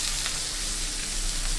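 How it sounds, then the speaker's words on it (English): Pomfret fish fries in a pan over a low to medium flame, giving a steady, dense crackling sizzle close by with no voices over it. "So this is the sound of sizzling fish fry in my kitchen."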